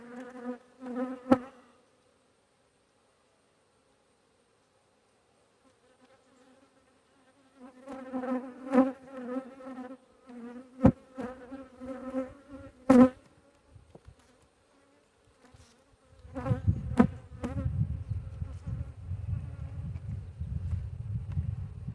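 Bees buzz around an open Layens hive in September, their drones coming and going in close, uneven bursts separated by quiet stretches, with sharp clicks of hive handling and a rougher rustling near the end.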